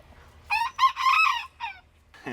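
A rooster, one of six backyard chickens, crows close by in one loud, clear cock-a-doodle-doo with a rising start and a drawn-out wavering end, followed by a short cluck.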